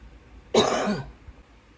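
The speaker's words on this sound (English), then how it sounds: "sorry about that, I had another cough." A single close, sharp cough with a throaty edge, lasting about half a second, in a quiet room.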